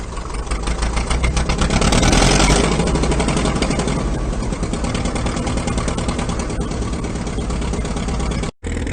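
Diesel engine rumbling steadily at close range after starting up, a loud, even mechanical chug that holds for several seconds with no talking.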